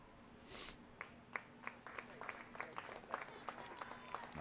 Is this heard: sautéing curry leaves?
no